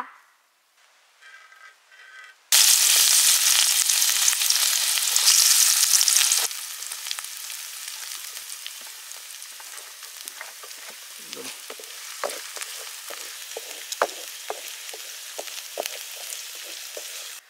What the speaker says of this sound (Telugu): కడాయిలో నూనె పోసుకున్నాక కొన్ని ఉల్లిగడ్డలు వేసుకున్నాం. దాంతోడు పచ్చిమిర్చి, కరివేపాకు, కొత్తిమీర వేసుకొని కొద్దిగా గోలించుకుందాం.